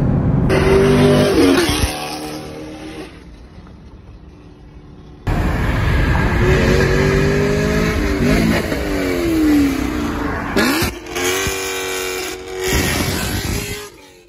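Chevrolet Camaro SS 1LE V8 fitted with Texas Speed 2-inch long-tube headers and flex fuel, revving hard in loud rising and falling pulls, with a quieter idle gap midway and a couple of sharp throttle blips near the end.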